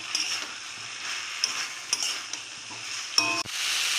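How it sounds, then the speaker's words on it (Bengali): Cauliflower and potato fry in oil under a soft, continuous sizzle, broken by repeated scrapes and clinks of a spatula stirring against the pan, close and alone. "ফুলকপি আলু 1 মিনিটের মতন কষিয়ে নিয়েছি।"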